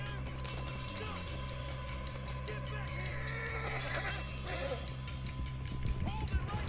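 Horses gallop and whinny during a mounted chase with pursuers in the video game Red Dead Redemption 2, with a loud neigh and hoofbeats under game voices and steady background noise.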